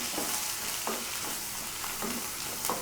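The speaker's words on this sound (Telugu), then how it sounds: "ఈ ఉల్లిపాయ ముక్కలు వేసుకొని కొంచెం కలర్ మారేదాకా వేయించుకోవాలి." Thinly sliced onions and green chillies fry in a pan, giving a steady, close sizzle with a few regular spatula stirring strokes and no talking.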